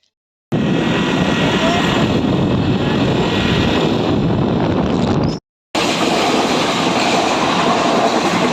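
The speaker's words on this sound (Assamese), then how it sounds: "সদায় পাওঁ ট্ৰেইনখন আমি" Loud, steady rumble of a moving train with rhythmic clatter, a brief cut in the middle, then the rolling noise carries on.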